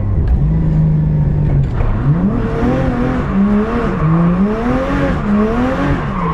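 Turbocharged Toyota 1JZ-GTE straight-six in a Lexus IS200 drift car revving and spooling up, rising and falling engine pitch sweeping steadily across the clip, loud and close with continuous roar.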